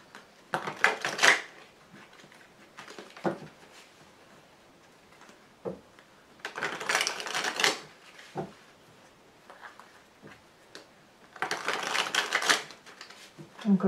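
Tarot cards are shuffled in three loud riffling bursts and laid out with soft slaps and taps in between; a French-speaking voice is heard now and then.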